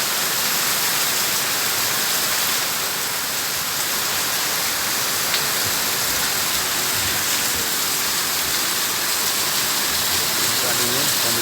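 Heavy rain pours steadily in Banda Aceh during a flood, a dense continuous hiss of downpour on surfaces, loud and unbroken throughout.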